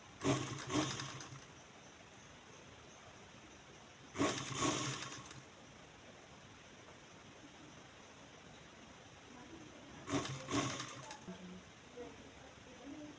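A sewing machine runs top-stitching along a folded, pressed seam on kurti fabric, heard as three short mechanical bursts of rapid stitching separated by long quiet gaps.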